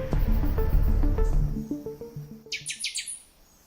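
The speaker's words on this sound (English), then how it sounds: "Birds." Wild birds give a quick cluster of high, bright chirps near the end, after a stretch of soft tonal music fades out.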